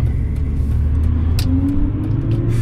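A Mercedes CLK engine rumbles loudly and steadily up close, with a low throaty drone that rises slightly in pitch toward the end.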